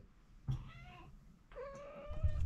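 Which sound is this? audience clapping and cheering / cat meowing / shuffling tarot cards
cat meowing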